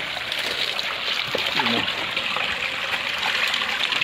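Water in a natural stream rushing and splashing continuously around someone bathing, with a voice briefly heard under the steady flow.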